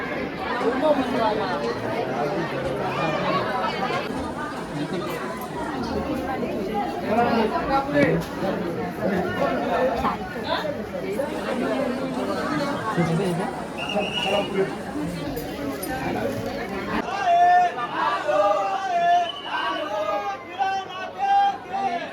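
Dense crowd chatter from devotees queueing in line at Ekvira temple, a continuous close hubbub of many overlapping voices with occasional brighter calls, steady throughout.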